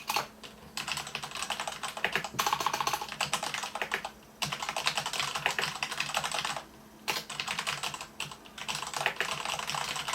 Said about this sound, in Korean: 기계식 키보드 치면